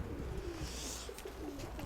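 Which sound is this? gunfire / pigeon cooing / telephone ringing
pigeon cooing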